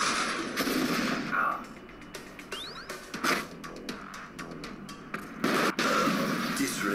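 Weapons firing in the team arena game Atlas Reactor: a series of sharp shots and explosive bursts at irregular intervals, loud and close, with a brief voice between them.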